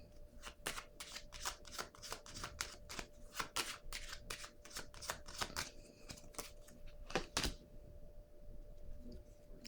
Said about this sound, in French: Je vais déposer une carte encore.